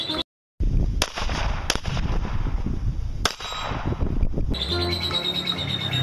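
Toy mini Glock pistol firing soft plastic bullets: a few sharp, separate snaps spaced about a second apart, fairly close, over a busy background with chirping.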